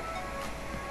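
Sea surf off a Philippine coast on a clear but choppy day during the amihan monsoon season, heard as a steady, continuous wash of waves and wind noise without a break.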